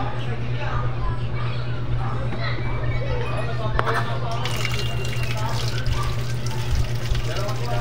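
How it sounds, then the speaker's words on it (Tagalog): A top-load washing machine fills with water during a test cycle, a steady trickle and splash over a constant low hum, with scattered dripping sounds. The fill runs continuously throughout. "nagkakarga na siya ng tubig"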